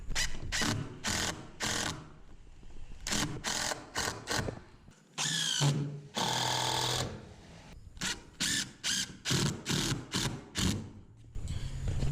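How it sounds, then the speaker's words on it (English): A power drill drives long screws into the hinge side of a garage service door, firing in repeated short whirring bursts with pauses between, close and fairly loud, with no talking. "Run some long screws in the hinge side."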